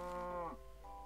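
A Minecraft cow gives one short, low moo, close and fairly loud, followed by a quieter lingering tone over a steady low background hum.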